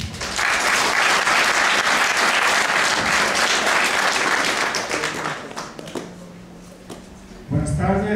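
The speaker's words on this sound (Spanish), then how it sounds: "para el cual pido por favor un fuerte voto de aplausos" Loud applause from a lecture audience at a bioinformatics talk at a university, sustained dense clapping that fades after about six seconds as a voice begins speaking.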